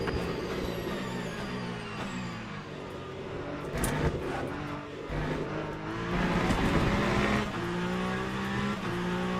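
A Toyota hypercar races in the Le Mans Ultimate sim game, its engine revving and shifting with tire noise and other cars around, loud and continuous.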